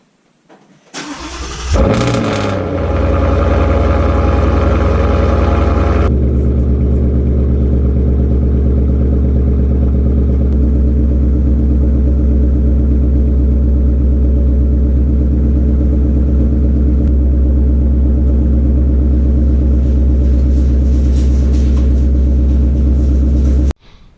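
A 2018 Ford Mustang GT with a ghost cam tune cranks and fires up, then settles into a loud, lumpy, choppy idle. The rough, pulsing rumble holds steady for about twenty seconds before the engine cuts off.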